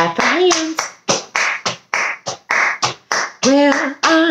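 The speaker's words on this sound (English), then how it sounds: "And we gotta clap our hands." Hands clap in a children's sing-along, a steady run of about a dozen crisp claps under continuous singing voices.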